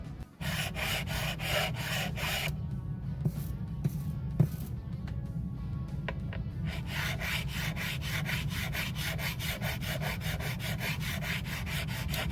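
A metal file levelling guitar frets on a custom guitar, making a steady, close rasping scrape that runs almost the entire time, with a brief pause in the stroke rhythm midway and no voices.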